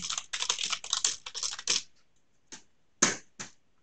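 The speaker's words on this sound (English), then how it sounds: "I'll just change this to an existing address and type some random password in here." A password goes in on a computer keyboard: a quick run of crisp, close keystrokes, then a pause and three separate presses, with no speech.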